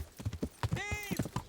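Horse hooves clip-clop in a steady rhythm in the video game Kingdom Come Deliverance, with a short whinny rising over the footfalls partway through, close and clear.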